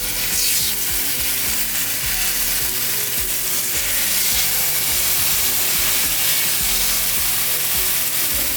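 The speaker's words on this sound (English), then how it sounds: "as you can hear, we have a nice sizzle" Continuous loud sizzling and crackling of steak frying in canola oil in a hot cast iron pan over high heat, a dense, steady hiss with no talking.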